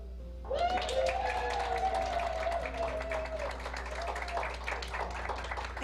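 An audience claps for the winner of the Missouri Realtor Salesperson of the Year award at a realtors' awards night. The steady, close applause lasts several seconds while a voice carries on over it.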